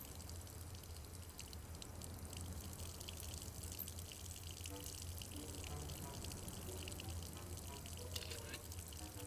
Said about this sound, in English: I filled the bottle with rum pouring from the barrel